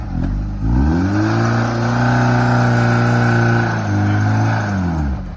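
A 1998 Isuzu Amigo's engine revs up a small hill, rising sharply then holding a loud, steady, close drone before dropping off near the end, with no talk.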